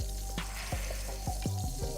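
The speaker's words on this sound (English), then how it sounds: "When you're cooking stuff like with pork chop frying, sometimes a little fat make it taste a lot better." Pork chops fry in a pan with a steady, close sizzle, broken by a few soft clicks and stirring scrapes over about two seconds.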